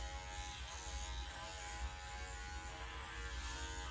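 Electric clippers buzz steadily while trimming a doodle's coat along the front leg and underside, a faint, even electric hum with no pauses.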